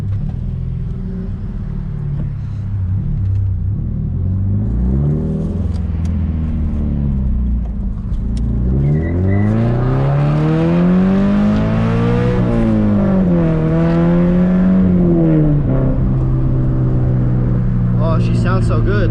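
A car engine rumbles up close inside the cabin, then revs and climbs in pitch through accelerating gear pulls before it settles, with a voice speaking faintly under it.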